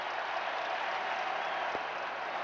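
A baseball crowd at Game 7 of the 1979 World Series, Pirates at Orioles, cheers and applauds in a steady, distant, hissing roar with one brief thump.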